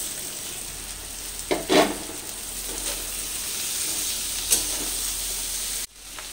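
Capsicum hits a hot pan with paneer and Kashmiri chilli powder, setting off a steady hiss marked by a couple of louder stirring bursts and a clink, ending abruptly.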